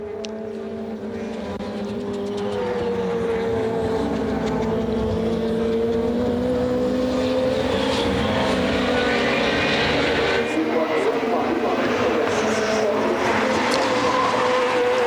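SEAT diesel touring cars race in a 2007 World Touring Car Championship round at Oschersleben, a loud, steady engine roar rising into a sustained mixed drone of several cars with tire noise and commentary-like murmur underneath.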